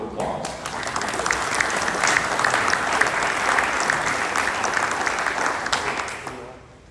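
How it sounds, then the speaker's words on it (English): A hall audience at an evening talk breaks into sustained applause for the sponsors, a full round of clapping that swells, holds steady and fades away at the end. "let's give all of our sponsors a last round of applause"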